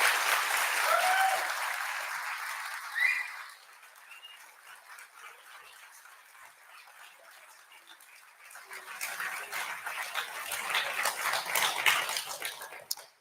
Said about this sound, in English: So let's take the opportunity to give them a round of applause to thank them for their time on your journey.